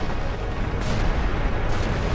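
Explosions from the video game Final Fantasy X HD Remaster, a dense continuous rumble of booming blasts with two brighter bursts, loud and steady throughout.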